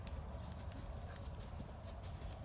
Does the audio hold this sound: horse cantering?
yes